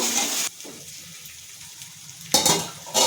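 Onion paste from one large onion frying in hot oil over a slow flame, with cloves and bay leaves in the pan: close sizzling that drops to a quiet hiss, then flares up loudly again.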